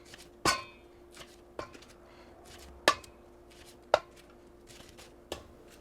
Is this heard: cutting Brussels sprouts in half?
yes